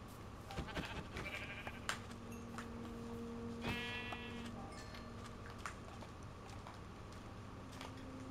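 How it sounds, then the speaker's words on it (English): A sheep bleats in the video game Minecraft, a short mid-clip call over a steady ambient background with scattered small clicks and taps. "There's two sheep over here."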